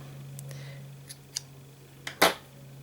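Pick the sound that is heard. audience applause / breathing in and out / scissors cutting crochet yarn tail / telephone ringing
scissors cutting crochet yarn tail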